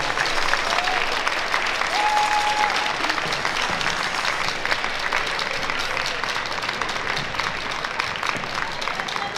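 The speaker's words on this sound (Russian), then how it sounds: "Громкие аплодисменты лучшим парам возрастной категории «Молодежь»." An audience at a ballroom dance festival final in Minsk applauds the best youth-category couples, with sustained thick clapping and faint crowd murmur, slightly easing off toward the end.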